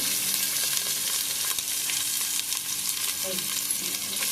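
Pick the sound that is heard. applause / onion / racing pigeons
onion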